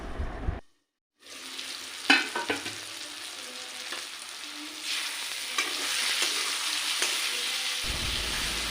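Potatoes and greens cooking in a covered pan over a low gas flame, a soft steady sizzle with a few clinks and rattles of the lid and utensils, and a brief silent gap near the start.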